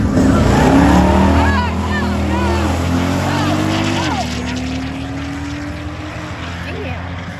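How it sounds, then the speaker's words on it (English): A 1979 Chevrolet Monte Carlo G-body with a swapped LS engine drag races at a strip, its loud engine roaring and rising through gear changes. A second car, a BMW 340i, runs alongside, and a voice talks over the noise. "1979 Monte Carlo, got a LS motor under the hood"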